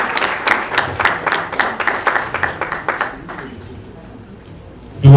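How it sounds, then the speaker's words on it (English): An event audience applauds a team lead being introduced, a crowd of clapping hands that thins out and fades after about three seconds, leaving a quiet room. "Round of applause for her."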